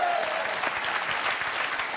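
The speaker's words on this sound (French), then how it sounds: "ben on applaudit très fort" A crowd at a Belgian TV show taping applauds loudly and continuously, the dense clapping rolling on without pause.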